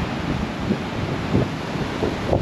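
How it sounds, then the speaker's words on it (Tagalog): Strong wind gusts across a rocky seashore at Kingston SE, a steady, rough rushing roar with buffeting on the microphone and no voices. "Mas malakas ang hangin eh."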